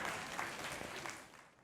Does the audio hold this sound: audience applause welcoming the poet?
yes